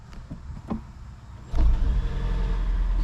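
A Toyota Avalon, just fitted with a new battery, gives a few faint clicks and then its engine catches, settling into a close, steady running rumble.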